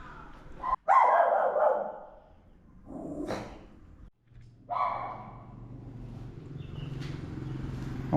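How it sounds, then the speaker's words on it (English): A dog at a village motorbike repair shop in Vietnam barks in a few loud, separate bursts over a low running motor hum. "We've got a friendly dog."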